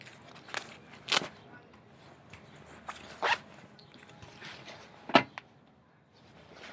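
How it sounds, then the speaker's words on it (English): YKK zipper on an airsoft combat uniform, zipped in several short, sharp, close pulls separated by pauses, with faint rustling of fabric in between. "YKK zipper."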